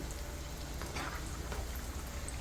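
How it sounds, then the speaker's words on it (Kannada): Shakarpare fry in oil over a low flame, a soft, even bubbling hiss with faint crackles that holds steady throughout the short stretch, with no talking. "ಲೋ ಫ್ಲೇಮಲ್ಲಿ ಇಟ್ಕೊಂಡು ಫ್ರೈ ಮಾಡಿ"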